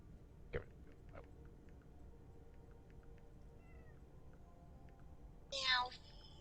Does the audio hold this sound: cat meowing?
yes